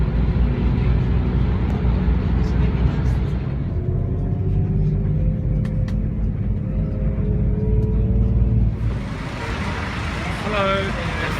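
Jeepneys and other road traffic rumble past in a steady low roar, with engine noise swelling and easing as vehicles go by, while voices talk over it.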